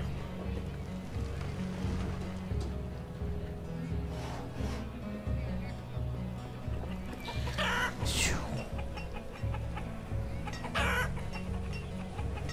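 Chickens cluck softly in the village-building game Banished, faint and steady against a low, constant ambient hum with occasional brighter game noises.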